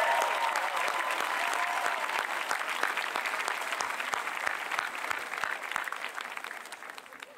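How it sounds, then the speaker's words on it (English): A graduation crowd claps for the Franklin Facilities and Public Works staff at the FHS Class of 2022 ceremony, broad sustained applause that starts full and gradually thins and fades toward the end. "Let's get a big round of applause for Franklin Facilities and Departments of Public Works."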